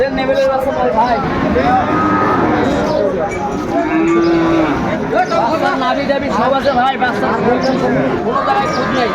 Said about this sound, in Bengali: এখানে গরুগুলো দেখছেন আতাউর ভাই